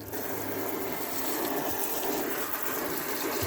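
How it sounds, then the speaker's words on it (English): Tap water gushes steadily into a sink over bundled dormant scion wood, a continuous close, broadband rush with no talking. "Turn on the water."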